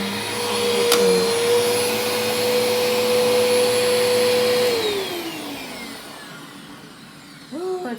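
One vacuum cleaner from a home collection runs with a loud steady whine and a constant motor tone, then powers down and the pitch slides away, followed by a short click at the end.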